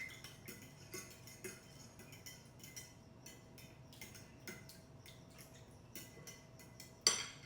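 A spoon stirring flavoring into overnight chia pudding, a quiet series of rhythmic taps and soft clinks against the jar, ending with a sharper clink.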